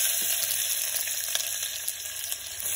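Chopped onions fry in hot oil with popped mustard seeds directly inside a pressure cooker, giving a steady bright sizzle with scattered crackles and a few stirring scrapes, close and continuous without talk.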